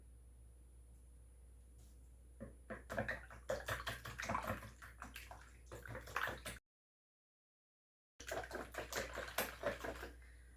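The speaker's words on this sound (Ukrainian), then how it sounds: "Яйця збиваємо з сіллю." Eggs being whisked with salt in a bowl, a quick run of rhythmic clattering strokes that starts after a quiet lead-in, breaks off into silence, then resumes briefly.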